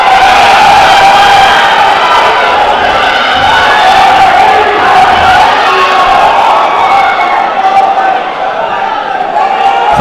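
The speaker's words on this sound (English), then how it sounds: "Crowd are getting behind this fight." A boxing arena crowd at a super flyweight title fight roars and cheers loudly and continuously, with shouts rising from the dense wall of noise and commentary voices underneath.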